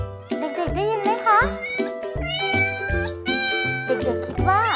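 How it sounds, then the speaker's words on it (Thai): A cat meowing several times in rising and falling cries over a steady, tuneful musical backing in a children's lesson about animal sounds, loud and close. "เสียงของแมวนั่นเองค่ะเด็ก ๆ"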